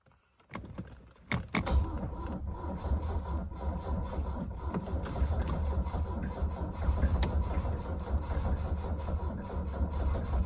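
A Mercedes W115 220D diesel engine is cranked on a start attempt using a second battery and brake cleaner, producing a loud, continuous, dense churning whir that runs unbroken for about nine seconds after a couple of sharp clicks at the start.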